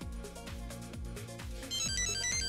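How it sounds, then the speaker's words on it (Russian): A mobile phone powered on after being connected to a supply plays its startup ringtone, a bright repeating electronic melody that is steady and close, ending on higher chiming notes. "Опа! Телефон включился."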